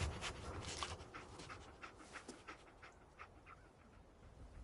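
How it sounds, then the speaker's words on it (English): Dogmeat, the dog companion in Fallout 4, pants quickly and rhythmically with a faint whimper, close and quiet, with no voices. "Dog meat. Get the scent, boy"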